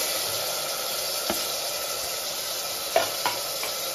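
Tomatoes frying in a pan for a stuffed brinjal curry, a steady close sizzle with a few soft scrapes and knocks of stirring.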